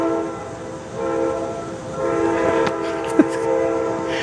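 A train passes about five miles away outdoors at sunset, a steady low rumble with a long sustained horn blast sounding faintly in the distance. A brief sharp knock comes near the end.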